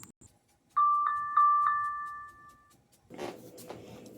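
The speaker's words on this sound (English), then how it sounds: "You hear that bell?" Bell rung four times in quick succession, each clear metallic ding ringing on briefly in a quiet room, followed by some handling noise.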